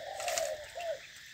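A spotted dove in rural Phú Yên, Vietnam, gives two soft, close cooing notes, the first longer and the second shorter after a brief gap, over quiet outdoor background.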